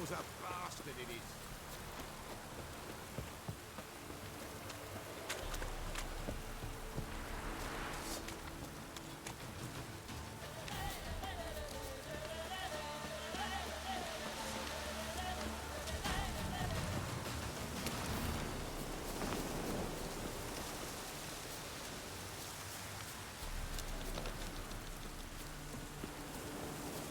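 A heavy downpour in The Witcher keeps up a continuous rushing patter of rain, joined by soft tonal background sounds and low thuds, steady for the whole stretch.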